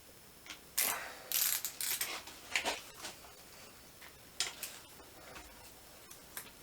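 A hand ratchet tightening bolts on a Mini Cooper R53 engine during an install, giving close, irregular bursts of clicking and ratcheting with brief pauses between strokes.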